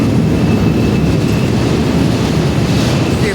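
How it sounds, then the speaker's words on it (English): A long freight train rolls past on the line between Colton and Dunsmuir, California, a loud, steady roar of rumbling wagons with faint rail clatter and a thin squeal, close by and continuous. "My 652nd freight train."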